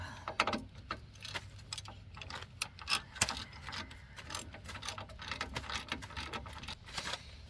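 A ratchet tightens a nut on a rear shock absorber of a 1997–2001 Jeep Cherokee XJ, giving quick, close, uneven ticking clicks in short bursts throughout, with no talking.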